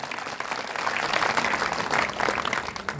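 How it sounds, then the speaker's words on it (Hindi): Steady applause from an audience at a Shrimad Bhagwat Katha religious gathering in Sekhupur Darauli, honouring a donor, with dense clapping sustained at an even level throughout. "एक बार जोरदार तालियां"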